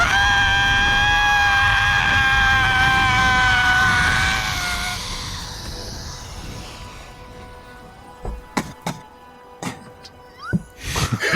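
A woman's high, wavering shriek rises and wails for several seconds as she burns in flames, a tabletop RPG effect, then trails off into quiet with a few sharp knocks and scrapes.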